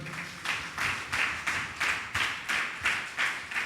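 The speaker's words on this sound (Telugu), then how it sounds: "నాలుగు గట్టిగా చప్పట్లు కొట్టండి ఒకసారి" A church congregation claps hands loudly in unison, a steady run of sharp, evenly spaced claps about every third of a second, full and close with room echo.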